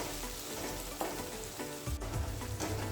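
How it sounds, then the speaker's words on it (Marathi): Salted onion fries in a pan, a soft continuous sizzle with a few louder stirring scrapes and clatters toward the end. "आता मी याला 2 मिनटं तळून घेते"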